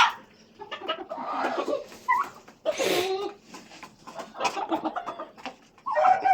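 Chicken clucking in short bursts at close range, with scattered bird calls mixed among them; no one speaks.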